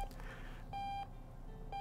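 An alarm clock in the bedroom of a dad-themed video game beeps in short electronic tones, two clear beeps spaced apart, quiet and alone with no talking.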